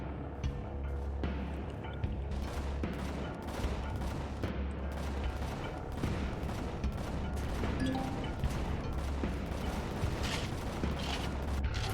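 Enemy cutter ship in the space game Empyrion: Galactic Survival fires steadily, a dense, continuous barrage of rapid gunfire and mechanical clatter that holds loud and close for the whole stretch.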